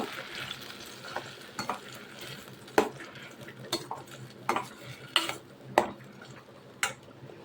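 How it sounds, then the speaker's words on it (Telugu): A ground amla paste cooks in a little oil in a pan, a soft sizzle running under scattered metallic clinks and scrapes of a spoon stirring against the vessel. "ఇది బాగా కొంచెం నూనెలో మగ్గనివ్వాలి"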